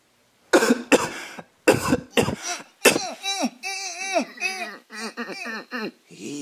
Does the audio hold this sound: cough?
yes